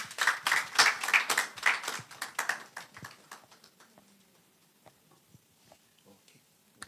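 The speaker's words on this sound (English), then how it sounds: "A round of applause, please." Applause from a small audience at a stakeholder development meeting in Ghana: distinct, fairly close claps, loud at first, then thinning to a few scattered claps that trail off.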